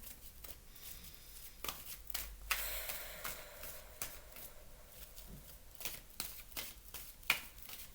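Tarot cards being shuffled and drawn: faint, soft riffling and light flicks of cards, with a few sharper snaps spread across the stretch in a quiet room.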